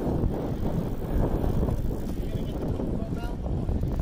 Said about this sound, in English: Bike riding with Kenny.